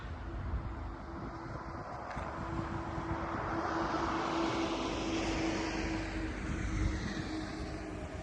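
A small tractor tilling a field in Japan drones steadily at a distance with a faint tonal hum on top, mixed with wind rumble across the whole stretch.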